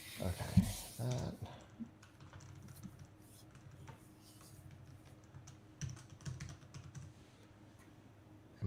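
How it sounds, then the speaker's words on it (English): Soft, scattered clicks of typing on a computer keyboard, close and fairly quiet, with a burst of louder noise near the start and irregular key taps continuing throughout. "I was hearing myself typing"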